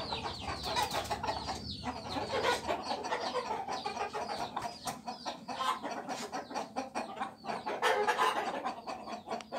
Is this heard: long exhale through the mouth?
no